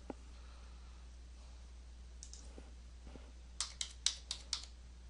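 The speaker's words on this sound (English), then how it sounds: "we're going to type those numbers in for it" Numbers are typed on a computer keyboard as a quick run of five or six crisp, quiet key clicks close by, following a few seconds of near silence.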